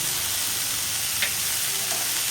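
Ridge gourd curry with turmeric and salt cooks in a pan, giving a loud, steady hiss of sizzling with a single faint scrape of stirring partway through, close up and without voices.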